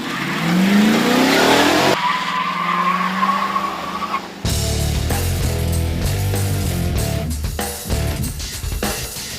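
Police-spec Chevy Caprice and Ford Crown Victoria cop cars launch side by side in a drag race, with squealing tires and a rising engine roar, then a loud, close V8 rev and acceleration.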